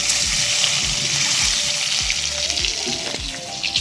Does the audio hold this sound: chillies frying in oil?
yes